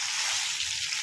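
Water lily stems being tossed in hot oil give a steady, close hiss of frying with a light sizzle throughout, no voices present.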